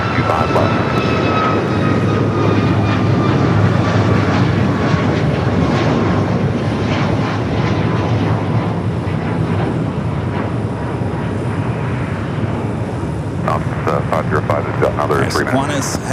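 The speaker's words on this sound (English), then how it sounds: "we got that Hawaiian A330 heading down for a south side at takeoff" Hawaiian Airlines Airbus A330 jet taking off at LAX, a loud steady roar of engines that holds throughout, with tower radio chatter and a spotter's voice talking over it.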